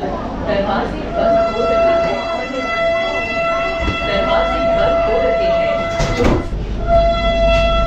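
A Vande Bharat train runs from Ujjain to Indore with a steady rumble and a sustained horn-like tone running throughout, while voices talk faintly over the continuous noise.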